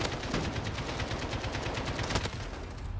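Rapid, sustained gunfire in Call of Duty: Modern Warfare (2019), shotgun blasts within a dense, steady stream of shots with one sharper crack near the end, no voices.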